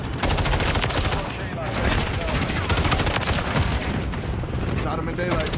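Rapid automatic bursts from an MTZ 556 rifle in Modern Warfare 3, dense loud cracking shots firing almost continuously with brief gaps, layered with other game noise.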